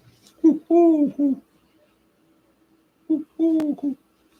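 A dove or pigeon coos outdoors in the morning: two close, clear phrases of low, throaty coos about three seconds apart, loud against a quiet background with no talk over them.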